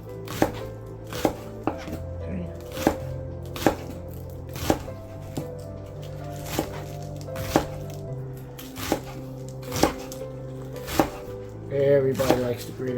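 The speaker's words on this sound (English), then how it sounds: "we're going to cut the onions, this green onion up a little bit here" A knife chops green onions on a cutting board, steady close knocks repeating about once a second, with soft rustling between strikes and no talking.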